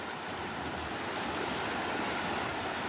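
Steady, dense roar of rushing water, a river in full flood during a thunderstorm, loud and continuous with no pauses.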